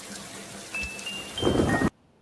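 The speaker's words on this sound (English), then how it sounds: "Yep, instant rain" Rain sound effect in a gacha game, a short, steady hiss of falling rain that swells toward the end and then cuts off abruptly, with no voices.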